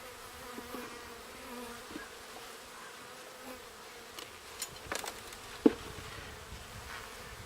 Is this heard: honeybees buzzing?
yes